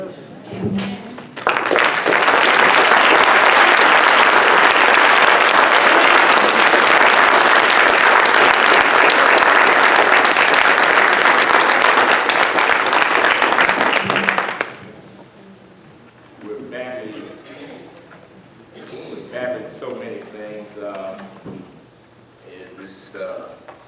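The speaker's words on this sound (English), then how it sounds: "the congregation will stand and give Dr. Carter and all our elders a standing ovation" A church congregation rises for a standing ovation, loud sustained applause filling about thirteen seconds before cutting off abruptly, followed by a speaker talking over low room noise.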